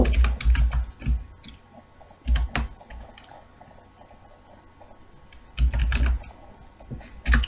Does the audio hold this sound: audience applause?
no